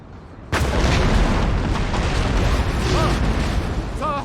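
Cannon fire in Napoleon: Total War, artillery bombarding a wall in a battle, bursts in as a sudden loud boom, then a dense sustained roar of shots and rumble continues beneath faint voices.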